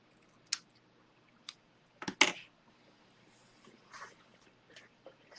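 Scissors trim the pink edge off a paper scrapbook sticker in a few short, crisp snips, one sharper double cut in the middle, close and fairly faint against a quiet background with soft handling rustles.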